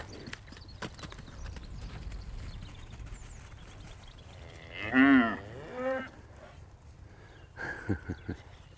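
A cow moos once, loud and nearby, followed by a shorter second low call, then a few quieter calls amid outdoor background noise.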